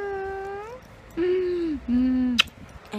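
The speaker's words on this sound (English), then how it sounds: "I like to talk to my cat, and she talks back." A female house cat meows several times in a row, with clear, drawn-out calls rising and falling in pitch. The meows are close and fairly loud against a quiet room, and there is no talking.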